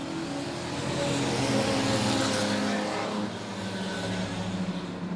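Stock cars race at Monett Motor Speedway, running three wide with engines roaring loudly in a dense, sustained drone that swells as the pack passes and then eases slightly.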